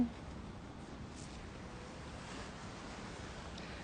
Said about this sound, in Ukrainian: Купатись тут на березі дуже важко, бо немає такого спуску, маленькі пляжі і великі хвилі.